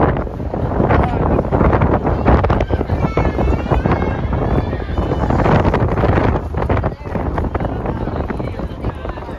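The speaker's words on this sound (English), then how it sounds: "It was very windy on the lookout deck." Strong wind buffets the microphone on a high city lookout deck above Melbourne's CBD, a loud continuous roar with gusting surges, and a voice speaks under it.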